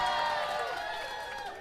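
A live crowd at a band gig at The Saxon Pub cheers and whoops in a sustained, bright roar that fades slightly toward the end.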